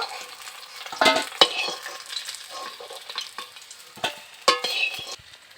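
Oil sizzles and crackles steadily in a pan as rohu fish belly pieces fry, with louder spattering bursts now and then and occasional scrapes of a utensil.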